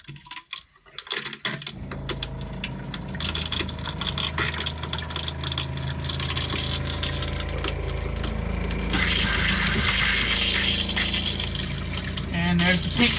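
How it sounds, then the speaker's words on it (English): An open faucet sputters and hisses as a water pump pushes pink antifreeze through the line during winterization, starting with irregular bursts and building into a steady rushing spray that grows louder toward the end. "open up the faucet here, and it's probably going to sputter and make all kinds of weird noise"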